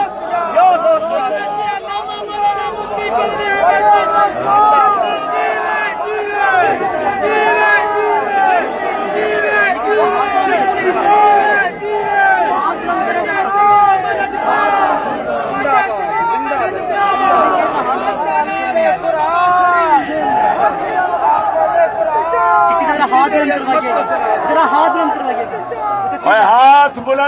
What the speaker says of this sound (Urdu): زور سے نعرہ لگائیے ذرا، فلک شگاف نعرہ ہونا چاہیے